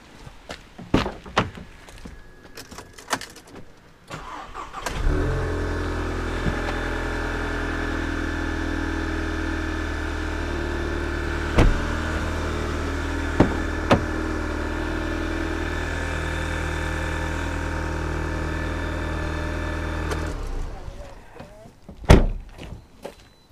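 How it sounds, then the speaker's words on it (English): A second-generation Audi TT engine cranks and catches, then idles steadily for about fifteen seconds in a home driveway during an oil service. Scattered clicks and thunks surround it before and after. "we haven't started the engine yet. So yeah, let's just do that."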